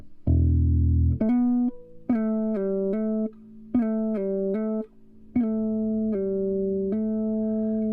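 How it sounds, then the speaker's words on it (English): Solo bass notes: a sliding grace note leads into quick hammer-on and pull-off figures, repeated in a bouncy, groovy phrase with short pauses between. "extend this grace note slide that we did into this hammer-on pull-off"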